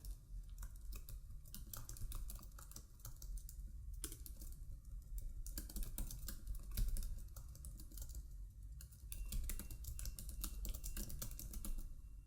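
Typing on a computer keyboard: quiet, close key clicks in irregular bursts and flurries, pausing briefly between runs over about twelve seconds.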